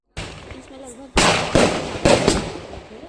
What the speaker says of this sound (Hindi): तो यहाँ पर हस्बैंड जी ने पटाखे जला दिए हैं।